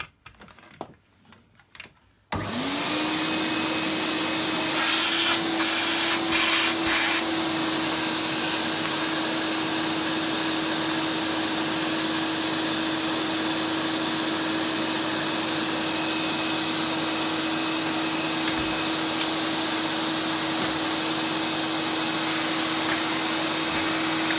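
A vacuum cleaner switches on after a brief moment of quiet clicks and runs with its hose detached, a steady, loud whining roar with a constant tone that holds unchanged to the end.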